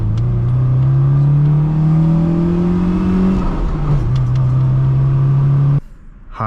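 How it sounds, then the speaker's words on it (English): A 1974 VAZ 2103 Lada Zhiguli engine revs hard and close, its tone climbing steadily through the gears with a brief dip at a shift before settling into a sustained roar that cuts off abruptly. "This is a 1974 Zhiguli 2103."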